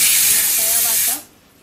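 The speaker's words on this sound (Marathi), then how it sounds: "तिकडे कुकरचे शिट्टे बघा." A pressure cooker on a home kitchen stove whistles with a loud, close hiss of escaping steam that cuts off abruptly just after a second.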